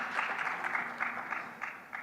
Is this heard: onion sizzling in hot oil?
no